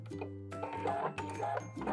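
A sewing machine stitches a half-inch seam along the edge of skirt fabric, a quiet close-up run of rapid mechanical ticking and whirring in short uneven bursts.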